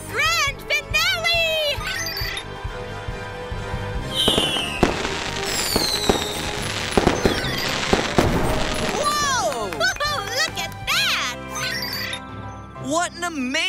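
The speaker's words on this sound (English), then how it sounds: "Here it comes, the grand finale." A cartoon fireworks grand finale bursts with rapid crackling bangs, whistling rockets and sparkling jingles, loud and dense in clusters, while children's voices talk over parts of the display.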